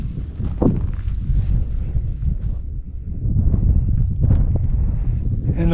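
Wind on the Continental Divide between Montana and Idaho in winter, a loud continuous low rumble buffeting the microphone in gusts, with some faint shuffling.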